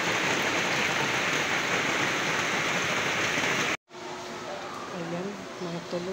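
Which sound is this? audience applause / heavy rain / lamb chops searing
heavy rain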